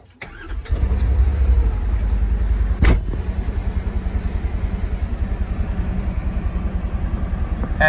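A 2023 Polaris Ranger 1000XP Northstar Ultimate UTV engine cranks and fires up, then settles into a steady, close, rhythmically pulsing idle with a brief sharp click partway through.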